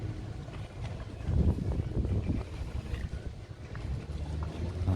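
Boat motors rumble low and uneven at a harbour in Marmaris, mixed with gusts of wind buffeting the microphone.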